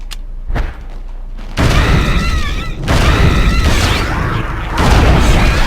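Flashbang grenade detonating in the video game Eternal Darkness, a loud boom that breaks into a sustained roar with crackling debris and shifting tonal whines, continuing at high level for several seconds.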